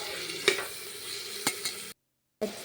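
Tomatoes being stirred in a hot frying pan, a soft continuous sizzle broken by a few sharp scraping clicks of the spoon, close by, with a short silent gap near the end and no voices.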